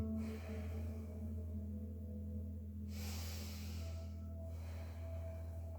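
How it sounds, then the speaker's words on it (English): Slow, deep breaths during a yoga exercise, a long airy inhale and a quieter exhale drawn close to the microphone over a low constant hum. "One more breath."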